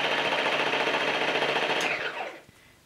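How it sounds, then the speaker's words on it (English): A Beldray Sonic Multiclean cordless hard floor and carpet cleaner runs with its rapidly oscillating scrub head. It makes a close, fast buzzing rattle that winds down and stops near the end. "Now it oscillates very fast, it says 900 oscillations per minute."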